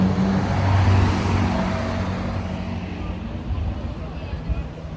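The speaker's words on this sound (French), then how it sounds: "On entend encore la Ferrari." A Ferrari engine rumbles at the Zoute Grand Prix, heard steady and fairly loud amid general traffic noise and crowd chatter, with people talking nearby throughout.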